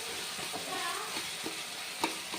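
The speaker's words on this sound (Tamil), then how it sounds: "தக்காளி நல்லா வதங்கி வருது" Tomatoes soften and sauté in a pan for a Chettinad vegetarian kuzhambu, giving a steady close sizzle with soft scraping stirs and one sharper clink near the end.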